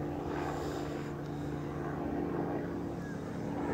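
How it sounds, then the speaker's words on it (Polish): Helicopter passing somewhere over a rural permaculture garden at sunset, a steady low droning rotor and engine hum at moderate distance, continuous throughout with no talk. "O, tu jakiś helikopter nam nadlatuje."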